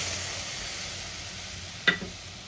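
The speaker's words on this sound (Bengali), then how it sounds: "এটা দিয়ে ভালো করে পেঁয়াজের সঙ্গে কষাবো" A paste of green chili, mustard and garlic fries with onions in a pan, giving a steady, quiet sizzling hiss throughout, broken near the end by a brief clink.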